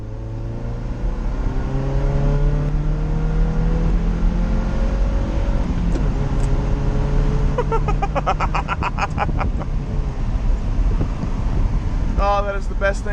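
An engine-powered Little Tikes toy car accelerates flat out, its engine note climbing in pitch and dropping back with each upshift through the gears. A loud, close, steady drone continues throughout, with rattling bursts later on.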